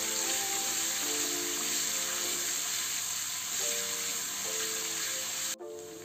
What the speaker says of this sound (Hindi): अदरक लहसुन के पेस्ट को हमें थोड़े सेकेंड पका लेना है